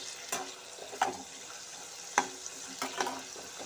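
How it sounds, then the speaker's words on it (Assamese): Potato pieces fry in hot oil with a steady soft sizzle, broken by a few sharp clinks and scrapes as they are stirred in the pan, with no one talking. "এতিয়া অকণমান মই মানে ইয়াক ৰঙা হোৱাকৈ মই ফ্ৰাই কৰিম এই আলুখিনি"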